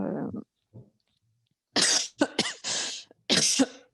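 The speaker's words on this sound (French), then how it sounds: "ça faisait longtemps que je n'avais pas toussé" Close, harsh coughs come in quick bursts, one short cough and then a cluster of several loud hacking coughs, with no talking.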